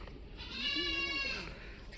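A tall Beetal goat at a farm sale gives a single loud, nearby bleat that rises and wavers for about a second, over faint background noise.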